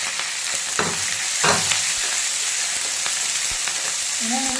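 Chopped green chillies fry in a pan with a loud, continuous hissing sizzle close up, broken by a few scraping stirs and a short tonal squeak at the end.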